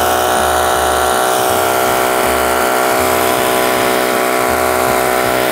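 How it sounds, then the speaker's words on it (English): A handheld leaf blower runs loud and steady, its harsh motor drone close and continuous with no pauses or speech. "this leaf blower sounds really intense, but it doesn't blow hard."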